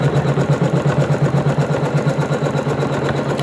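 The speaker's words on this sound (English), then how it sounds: "the first thing it's going to do when we get on the red colour is it's going to stitch the outside of the design" A Janome Skyline S9 embroidery machine stitching the outline of a trapunto quilting design, a loud, close, steady mechanical whirr with a fast regular pulsing beat and no voices.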